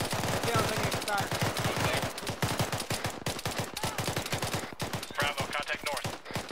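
Rapid bursts of gunfire from a soldier's rifle during a military exercise, dense sharp cracks repeating in quick succession for several seconds, fairly close and loud, with faint voices in the background.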